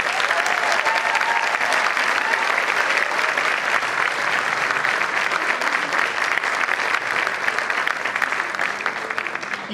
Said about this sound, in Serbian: Ja vas molim da velikim aplauzom nagradite i naše odbornike koji su tu sa nama